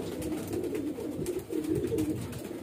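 A highflyer pigeon with clipped feathers coos in low, rolling, repeated phrases, close and moderately loud against faint background noise.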